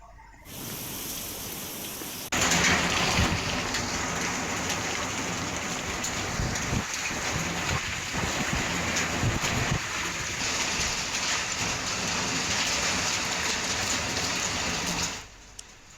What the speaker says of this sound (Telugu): ఈదురు గాలులతో కూడిన ఓ మోస్తరు వర్షం కురుస్తోంది